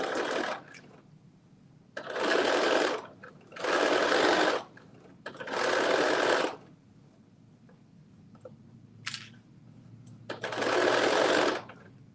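A sewing machine stitches a garment in five loud, close bursts of rapid whirring, each lasting around a second or more, separated by short quiet pauses.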